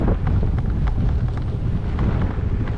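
Strong wind buffets the microphone continuously during a gravel bike ride near Lake Apopka, a loud low rumble with no pauses and no talk.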